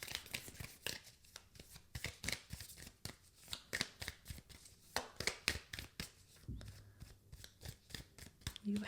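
Tarot cards shuffled and handled at close range in a series of quick riffling and snapping bursts, with a brief low hum partway through.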